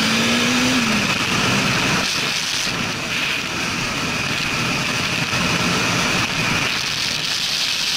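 A Bajaj Dominar 400 motorcycle engine runs steadily while warming up, a constant broadband drone with no distinct rev spikes, heard alone without talk.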